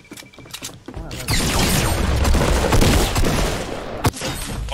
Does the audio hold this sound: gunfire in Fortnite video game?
yes